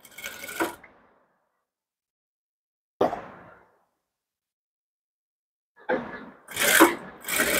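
Sewing machine stitching the folded edge of a blouse neck, heard as several short whirring bursts close by, separated by stretches of silence, with a longer run of stitching at the end.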